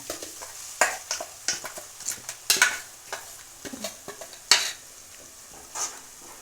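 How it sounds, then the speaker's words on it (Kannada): Ground masala fries with onions and curry leaves in a pan, giving a quiet sizzle and a series of crisp spoon scrapes and taps as it is stirred, near and alone with no voices. "ರುಬ್ಬಿದ ಮಸಾಲೆನ ಹಾಕೊಂಡ್ಬಿಡೋಣ"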